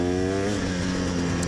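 An old 1984–85 Suzuki DR350 enduro motorcycle runs nearby with a steady, buzzy, harmonically rich engine note, fairly loud and continuous without talk.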